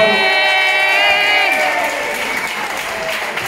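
A live audience cheers and applauds for an entertainer at St Eugen's in Tenerife, sustained clapping and voices with a tonal musical swell fading beneath the crowd noise.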